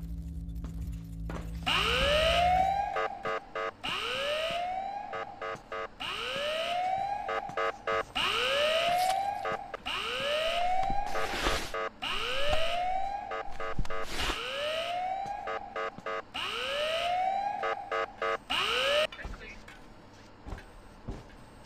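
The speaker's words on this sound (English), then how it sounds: "Sound the alarm!" An alarm siren sounds in the video game Ice Scream 8 inside a factory laboratory level, rising and falling in repeated wailing sweeps, about nine cycles, loud and steady with no talk over it.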